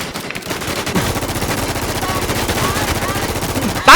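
Rapid automatic gunfire from the online shooter game Infestation rattles in a fast, steady burst for several seconds, loud and continuous, ending in a sharper crack.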